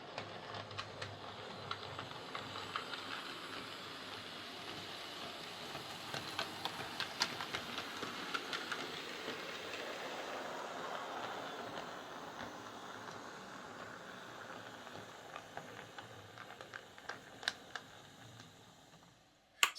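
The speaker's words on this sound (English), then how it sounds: "So that runs super smooth and super quiet, which I suppose is what you would expect from a brand new locomotive" A brand-new Hornby J36 class model steam locomotive, early BR No. 65311 "Haig", runs along model railway track with a steady, quiet whirring hum and faint ticking rail clicks for about twenty seconds, alone without talk.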